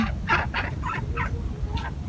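Native backyard chickens at a small Philippine farm give a series of about five short, clucking calls in a loose rhythm over a low, rumbling background, fairly close and moderately loud, with no talking.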